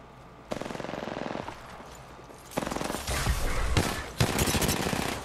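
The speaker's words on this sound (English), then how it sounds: "Teammate shooting at him." Rapid bursts of automatic gunfire in a shooter video game, two dense volleys with a short gap and then longer, louder sustained firing, with no talking.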